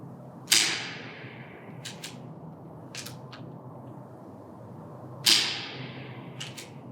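Tokyo Marui MK23 airsoft pistol fired unsuppressed with a standard Marui magazine: two sharp, snappy shots several seconds apart with short decaying tails, plus a few lighter mechanical clicks between them, alone in a quiet room.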